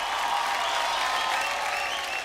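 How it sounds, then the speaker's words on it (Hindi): Steady, dense applause from a crowd, a continuous bright clatter of clapping that stays even and fairly loud throughout, with no speech over it. "इसलिए उनके लिए तालियां हो जाए।"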